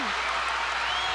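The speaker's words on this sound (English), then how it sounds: "And look at this crowd, they've come absolutely alive." A wrestling arena crowd at a Madison Square Garden steel cage match, a dense, loud wash of cheering and applause filling the whole moment.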